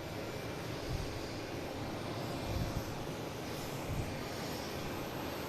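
A Delta airliner coming in to land over Pleasure Bay gives a steady, distant roar of jet engines that holds at an even level throughout, with no talking.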